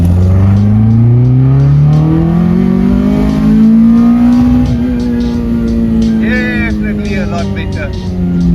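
A Mk1 VW Golf fitted with individual throttle bodies revs as it drives, the engine note climbing smoothly and loudly before easing off, with a voice talking over it.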